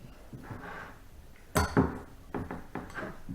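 Fork mashing a very ripe banana in a bowl, with faint soft squishing followed by a few sharp metallic clinks and taps of the fork against the dish, close by and without talk.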